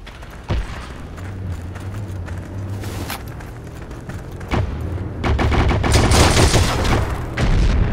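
Gunfire on a battlefield in Heroes & Generals, with single loud cracks and booms from rifles including a sniper rifle, then a denser volley of shots toward the end, all close and loud.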